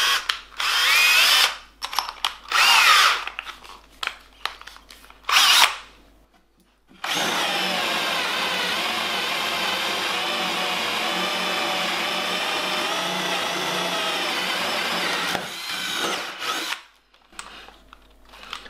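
A Bosch GSR 12V cordless drill bores with a 28 mm Forstner bit, running in one steady, loud whining burst of about eight seconds, with shorter bits of handling and motor noise before it.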